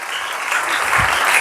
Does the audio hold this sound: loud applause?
yes